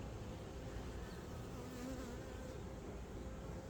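A large honeybee swarm being moved into a new 10-frame hive hums with a dense, steady buzz of many bees, close and continuous throughout, with no voices.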